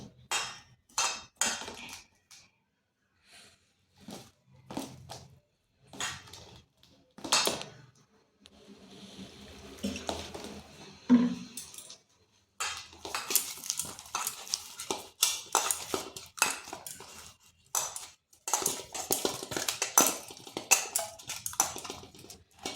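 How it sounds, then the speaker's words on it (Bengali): Flour dough being mixed and kneaded with water added little by little in a bowl, close irregular knocks, scrapes and soft slaps of hand and utensil against the bowl, coming in bursts with short pauses. "এরপর অল্প অল্প জল দিয়ে একটা ডো তৈরি করে নিচ্ছি।"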